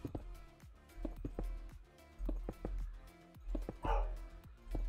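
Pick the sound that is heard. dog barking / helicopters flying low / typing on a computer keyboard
dog barking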